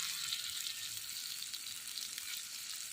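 Poultry meat frying in a cooked-down spice paste makes a steady, bright sizzle, quiet but continuous and alone for the few seconds.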